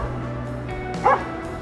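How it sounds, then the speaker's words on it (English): A dog gives a single short bark or yip outdoors, fairly close, over a steady low background hum. "He runs outside and just barks at nothing."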